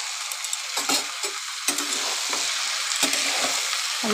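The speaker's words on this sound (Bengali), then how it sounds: "আলুর সাথে ভালো করে কষিয়ে নেব।" Bottle gourd and potatoes sautéed in a pan make a loud, continuous sizzle broken by repeated scraping strokes of a spatula stirring the vegetables, close up and without talking.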